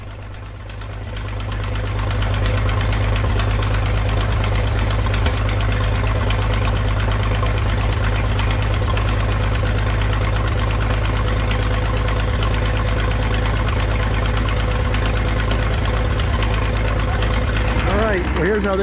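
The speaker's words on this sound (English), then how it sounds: "we got a 100 horsepower engine, the Minneapolis Moline HEB" A 1940s Minneapolis Moline HEB six-cylinder, 605-cubic-inch, 100-horsepower engine drives a sawmill, starting quietly and building to a loud, steady, throbbing drone with a knocking beat that runs on without any speech.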